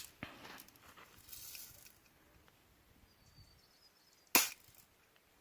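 An air rifle fires once at metal spinner targets outdoors, a single sharp crack late in the clip after quiet rustling and faint background noise.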